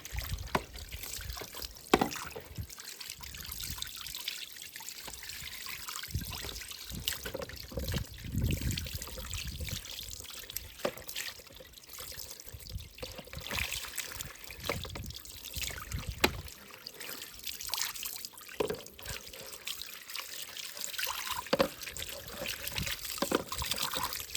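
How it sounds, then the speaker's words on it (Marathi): Water trickles and splashes steadily as a drip irrigation filter and its two opened parts are rinsed clean outdoors, with irregular pours and dribbles continuing throughout. "त्याला आपण अशा पद्धतीनं पूर्ण धुवून घ्यायचं"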